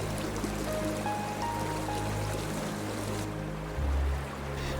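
A river flows steadily nearby, its continuous wash of water close and fairly loud, with a low rumble rising briefly near the end.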